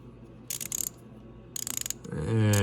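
GearWrench 1/4 inch drive locking flex ratchet clicking in two quick close bursts of fine-toothed ratcheting, each under a second, followed by a louder rising mechanical whir at the end.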